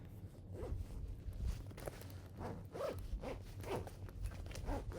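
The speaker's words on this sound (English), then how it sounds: "Now let's see if we can zip it up." A suitcase zipper is pulled along in a series of short rasping strokes, close and fairly quiet, with a steady repeated rhythm.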